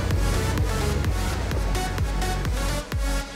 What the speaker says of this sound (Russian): Немножко уже с оторванной выхлопной трубой. Звук прямо как у V8.